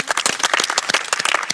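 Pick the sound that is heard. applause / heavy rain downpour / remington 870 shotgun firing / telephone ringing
applause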